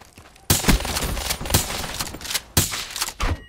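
Rapid bursts of gunfire in Black Ops 3, sharp loud shots and short volleys in quick succession, close and alone.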